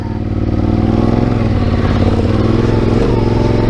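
A Yamaha Ténéré 700 adventure motorcycle's engine runs loud and steady off-road, a continuous throaty drone with slight surges in revs and no voices over it.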